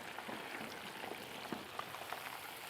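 Shrimp deep-frying in hot oil in a home kitchen, with a soft, steady bubbling crackle and scattered small pops that stay faint and even throughout.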